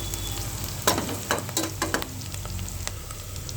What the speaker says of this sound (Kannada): ಹಸಿ ಸ್ಮೆಲ್ ಹೋಗೋ ತನಕ ಹುರಿಬೇಕು ಈರುಳ್ಳಿನ